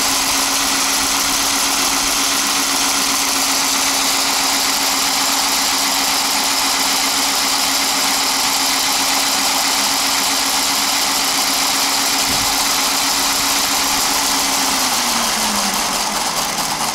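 A Bachmann G scale Clementine Betsy Porter model train engine runs steadily with a continuous motor hum and whine throughout, its tone dropping near the end as it slows, with no talking.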